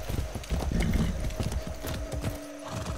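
Rapid hoofbeats of a galloping horse in Far Cry 6, steady and close, with a faint tonal hum underneath and no talking.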